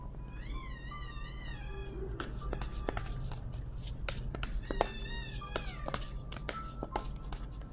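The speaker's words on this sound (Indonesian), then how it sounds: "Kalau kamu dengar suara kucing, itu kucing aku nangis ya" Several small kittens meow in high, thin cries, repeated and overlapping, close by, with a steady low hum in the background.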